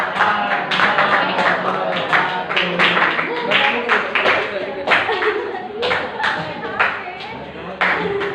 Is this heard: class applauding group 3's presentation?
yes